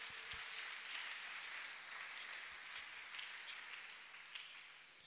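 Church congregation at a Christmas service applauding, a faint, soft patter of many hands clapping steadily in a reverberant room, quiet and continuous throughout.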